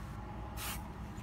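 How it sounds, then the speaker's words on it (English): A single short spritz of glass cleaner from a spray bottle hits glass, a brief close hiss against a quiet background with no talking. "For this demo, I'm going to go ahead and spray it on the glass."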